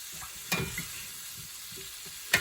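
Shrimp and mixed vegetables sizzle softly in a stir-fry pan on moderate heat, a quiet continuous hiss broken by a few sharp crackles and pan clatters.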